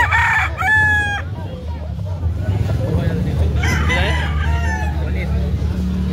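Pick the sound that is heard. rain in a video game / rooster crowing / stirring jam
rooster crowing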